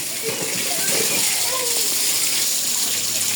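Water splashing and gushing over a cow being washed in the morning, a constant loud wash of water with children's voices and talk in the background.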